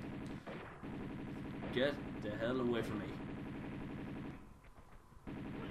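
Gunfire in the Tomb Raider 2 video game comes as rapid, repeated shots rattling through the clip, mixed with game sounds, while a person talks over it.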